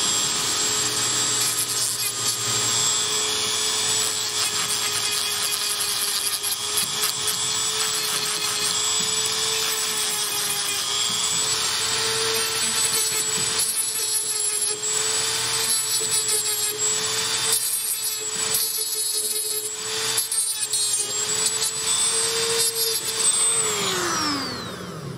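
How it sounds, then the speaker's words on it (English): Continuous steady grinding on the outside of a wingbone turkey call, a loud, sustained whirring rasp with a steady motor tone that runs unbroken for most of the span before winding down at the end. "we're going to go ahead and do a little grinding on the outside"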